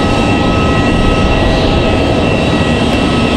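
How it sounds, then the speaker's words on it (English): A jet airliner on a Paris flight takes off from Raleigh-Durham airport, and a loud, continuous engine roar fills the short stretch without a break. "That Paris flight taking off to the left out of here."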